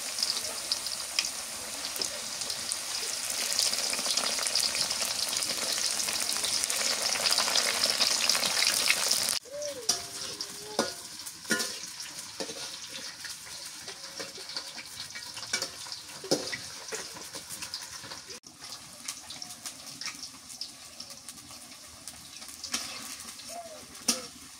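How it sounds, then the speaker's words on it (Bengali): Potatoes frying in a pan in a village kitchen, a loud continuous sizzle that drops abruptly partway through, followed by quieter crackling and occasional stirring scrapes. "আলুগুলো ভাজা হয়ে গেছে"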